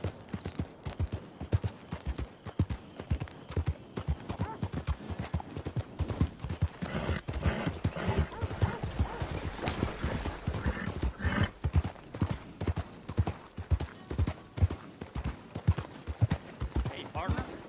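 Horse hooves clip-clop in the video game Red Dead Online, a rhythmic trot of hoofbeats that repeats throughout, with an occasional whinny and voices talking over it.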